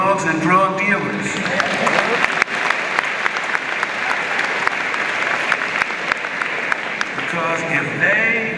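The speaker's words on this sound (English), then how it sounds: "I want you to applaud this as well." A large graduation audience at Hampton University applauding in steady, dense clapping with scattered cheers, loud and continuous, with a voice speaking over the start and end.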